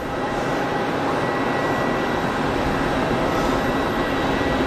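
An Embraer 195 airliner arriving from Amsterdam on a long final into Geneva Airport, a continuous even jet rumble and hiss with no rise or fall, alone without speech.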